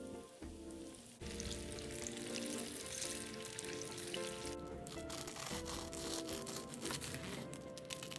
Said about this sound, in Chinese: 将剩余全部油炸完毕